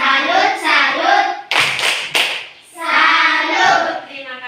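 A group in a classroom-style gathering claps a rhythmic salute, with loud, sharp bursts of hand claps between stretches of chanting voices, close and energetic.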